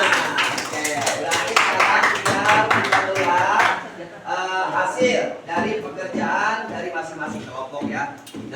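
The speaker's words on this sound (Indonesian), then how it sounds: "beri tepuk tangan untuk semuanya" Students in a classroom clap together during a teaching session, a busy patter of hands that is loud at first and then thins out, mixed in with voices talking over it.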